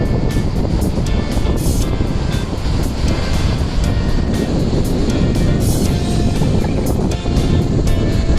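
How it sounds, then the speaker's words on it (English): Ocean waves surging through a hole in the cliffs at Nusa Penida, a continuous loud roar of churning surf with heavy wind buffeting the microphone throughout. "The waves comes in and goes out through this hole which give you a pleasant view."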